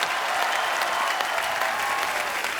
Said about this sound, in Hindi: एक बार यूवी बाजी के लिए जोरदार तालियां हो जाए।